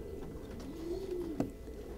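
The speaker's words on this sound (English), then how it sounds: "You're a nice looking bird." A grey racing pigeon gives a single soft, low cooing call, close and clear, with a short sharp knock near the end and no talking.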